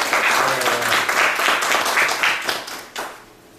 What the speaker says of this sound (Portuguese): Eu gostaria de fazer uma salva de palmas para ele.